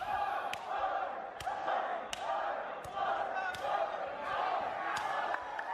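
A video game pro wrestling arena crowd roars in a continuous wash that swells and dips, punctuated by regular hard slams and thuds from the ring every second or so.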